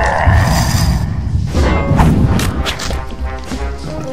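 A loud, booming blast in a video game, with heavy low thuds and crashing debris rolling over about four seconds amid dense game noise.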